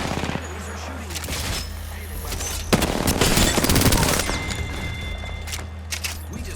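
Enemy gunfire in an Apex Legends firefight, a sharp close burst followed by rapid shots and booms over a steady game hum, with a sudden impact crack partway through.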